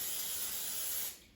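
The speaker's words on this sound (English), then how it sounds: "So I'm going to start by spraying a pan with a non-stick cooking spray" Non-stick cooking spray sprayed from a can onto a pan before making an omelette, one close steady hiss of about a second that cuts off sharply.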